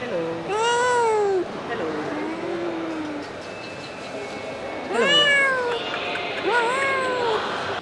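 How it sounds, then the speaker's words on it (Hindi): Cats meowing inside an airport, several loud, close drawn-out meows in separate bursts over a low background hum. "एयरपोर्ट में बिल्ली, और सिर्फ बिल्ली नहीं, बिल्ली का फैमिली पहली बार देख रहा हूँ मैं।"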